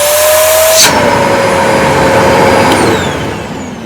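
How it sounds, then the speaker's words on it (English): A Zero G vacuum cleaner kicks on about a second in with a loud, steady whine and a rising tone, running continuously up close before easing slightly near the end. "No complaints on the quality of the vacuum."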